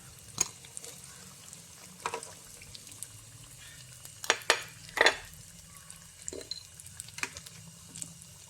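Fried mango fritters are scooped out of a pan of oil into a bowl, giving a few faint, scattered scraping clicks and soft stirring sounds over a quiet, low sizzle.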